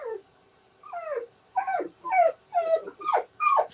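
A dog whines in a string of about six high, rising-and-falling whimpers, close to the microphone, the later cries louder and more drawn out, with no talking.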